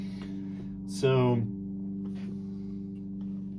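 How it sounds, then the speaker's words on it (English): A lawn mower drones steadily in the background, a low, even hum under a brief spoken word. "pardon the mower noise in the background there"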